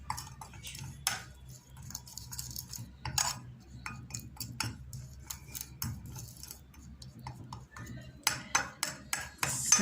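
A spoon stirs a tomato and turmeric face paste in a bowl, giving irregular light clicks and taps against the bowl that quicken into a denser run of scraping ticks near the end, with no talking.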